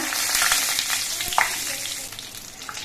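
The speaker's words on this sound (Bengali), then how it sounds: "এবার তেলের মধ্যে দিচ্ছি দুটো তেজপাতা" Bay leaves dropping into hot oil in a pan after potatoes were fried, giving a steady close hiss and crackle with a brief sharper spit partway through.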